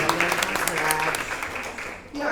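An audience at a book launch breaks into a short burst of applause, dense clapping that fades near the end, with a voice speaking over it.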